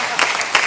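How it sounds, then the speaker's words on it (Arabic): Audience applause in a television studio, a brief burst of dense clapping that sounds fairly loud and close. "تصفيق"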